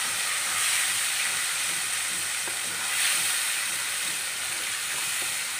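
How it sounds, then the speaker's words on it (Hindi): Tomato puree sizzles in a pan with browned onions for dal makhani, a steady soft hiss of frying with faint stirring, quiet and continuous with no talk. "अब मैं इसमें 2 टमाटर की प्यूरी मैंने बनाई थी वो डाल देती हूँ और अच्छी तरीके से फ्राई कर लूँगी।"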